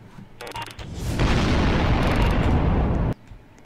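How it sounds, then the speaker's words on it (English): A loud, close blast in Roblox Jailbreak: a roughly two-second burst of dense roaring noise that cuts off sharply, preceded by brief clicks. "Who just shot?"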